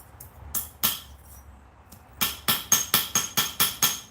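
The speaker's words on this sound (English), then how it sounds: "I'm using alternating types of blows because if you look, the hammer doesn't make a full length indentation." Metal being hand-forged on a flat surface with a hammer: a few scattered strikes, then a quick run of about eight sharp, ringing blows in steady rhythm, close and clear with no talk.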